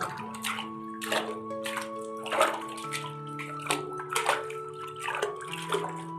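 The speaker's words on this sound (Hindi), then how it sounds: "चलो बच्चों, इस पानी से अपने कपड़े धो लो, जितना भी कीचड़ है उसे साफ कर लो।" Children splash water while washing muddy clothes, with repeated bursts of sloshing and slapping water at an uneven rhythm over steady sustained tones.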